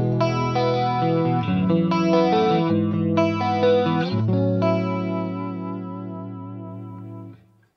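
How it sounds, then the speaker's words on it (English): Clean electric guitar played through a Fractal Axe FX Dimension 2 chorus at stock settings, a few strummed chords shimmering wide and lush, the last chord ringing out and fading before cutting off. "for the chorus block, we're going to be using the Dimension 2 in stock settings"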